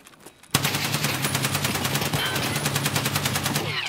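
Rapid automatic gunfire in the Escape From Tarkov shooter game, starting abruptly after a short quiet lead-in and running as a steady, fast stream of close, loud shots to the end.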